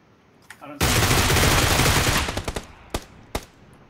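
Video game gunfire: a dense, loud sustained burst of automatic fire for over a second, then a string of separate sharp shots trailing off, with a voice briefly heard under it.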